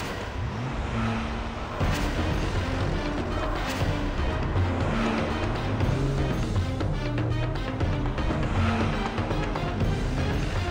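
A car driving, a steady loud engine drone with shifting revs and road rumble that runs continuously throughout.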